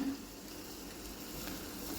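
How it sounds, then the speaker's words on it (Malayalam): Mustard seeds fry in hot oil in a pan, a steady close sizzle that holds throughout with a faint crackle and no voices. "അപ്പം നമ്മൾ ഇതിലേക്ക് കുറച്ച് കടുക് ഇടാൻ പോവാണ്"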